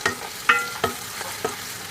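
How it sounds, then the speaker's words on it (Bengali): Onion drops into hot oil and sizzles, with a series of sharp stirring scrapes and crackling bursts roughly every half second over a steady frying hiss, close up and without speech. "পেঁয়াজটা পড়ার পর যেটা শব্দ হয় ভীষণ সুন্দর একটা শব্দ।"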